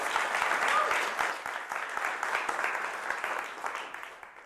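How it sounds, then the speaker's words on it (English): An audience at a youth talk event applauds, a steady, dense wash of clapping that holds for several seconds with a few voices cheering underneath. "So let's give them all a huge round of applause."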